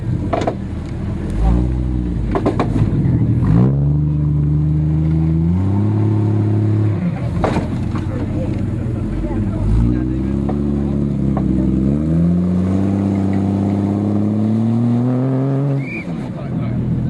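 A 4x4 off-road vehicle's engine revs repeatedly during a national off-road driving challenge, rising and falling in pitch as it climbs an obstacle, with a commentator talking over it throughout.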